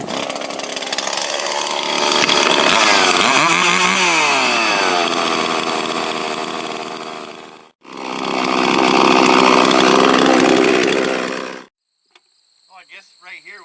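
Husqvarna chainsaw roaring at high revs while a tree is cut down, with pitch dipping under load, a brief pause, a second loud burst, then sudden quiet.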